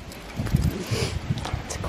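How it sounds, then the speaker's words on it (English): Gusty wind buffets the microphone in low, uneven rumbles, fairly faint, with no one speaking. "It's quite windy."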